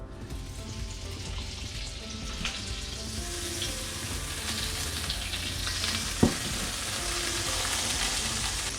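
Fish frying in butter in a hot pan gives a loud, steady sizzle that holds evenly throughout, with one sharp clink of the pan partway through and no voices.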